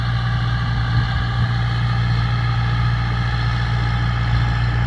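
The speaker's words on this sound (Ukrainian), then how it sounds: "зараз під'їжджає наш трактор і ми можемо побачити, як він працює" A tractor pulling a 12 m Einböck tine weeder (harrow) across an organic soybean field, heard as a steady, loud low diesel drone with constant engine hum throughout and no talking.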